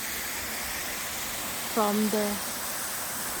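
The Craigie Linn waterfall in Glen Park sends up a constant, close, broadband rush of falling water, steady throughout, with a brief moment of someone speaking over it.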